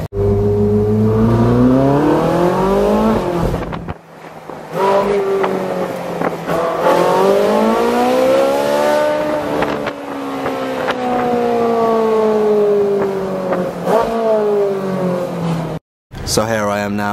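A Ferrari's engine roars and revs near and loud, rising and falling in pitch through several sweeps with brief gaps, accompanied by wind noise.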